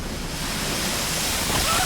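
Rough seas and strong wind in the Southern Ocean aboard a boat bound for Antarctica, a constant loud roar of surf and gusting wind hitting the microphone.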